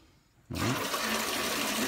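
Water suddenly rushes through a cabin filtration system, a steady loud broadband gush that starts abruptly after a brief quiet moment and continues unbroken.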